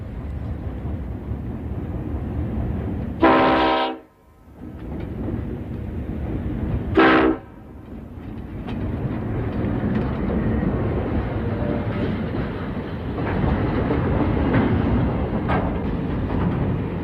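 A train pulls into Marree station on the outback Birdsville Track, its horn sounding two long blasts over a steady, loud rumble of rolling wagons that continues after the horn stops.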